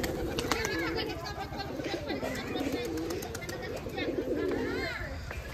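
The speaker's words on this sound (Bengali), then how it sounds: "শাওন ভাইয়ের বিখ্যাত জাক কবুতর" Black jacobin pigeons at a pigeon farm in Rajshahi coo in repeated low throbbing phrases close by, overlapping one another, while a person talks over them throughout.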